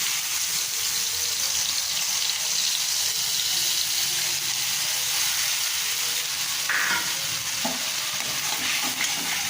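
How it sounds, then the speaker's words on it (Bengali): Liquid spice paste, mixed with a little water, pours into a hot pan during a Bengali hilsa fish rai roast, setting off a steady, loud hiss and sizzle that fills the whole stretch, with a few soft clinks of stirring near the end. "সামান্য একটু জল দিয়ে গুলে ঢেলে দেব।"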